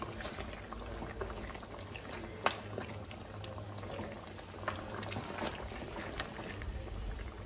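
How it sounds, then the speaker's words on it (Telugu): A pot of mutton curry bubbles at a steady boil over a flame, with a continuous rolling simmer and a few sharper pops and clinks scattered through it. "మంట మీద పెట్టుకొని మీరు అట్లీస్ట్ ఒక 15 మినిట్స్ మటన్ ఉడికించుకుంటే చక్కగా ఉడికిపోతుంది."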